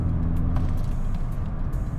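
Turbo diverter valve on a 2.0T TSI car fitted with an ECS atmospheric spacer, a steady rushing engine roar with faint airy whooshes on top, heard close and continuous.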